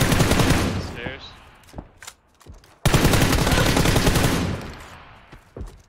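Rapid SLR rifle gunfire in the shooter game PUBG, loud bursts of shots in two clusters with short gaps between them, a voice talking over part of it.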